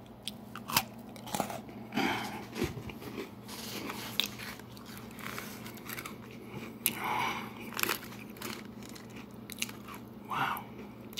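Nutter Butter peanut butter sandwich cookies are bitten and chewed close to the mic, giving crisp crunches and crackly chewing in an irregular rhythm over a quiet room hum.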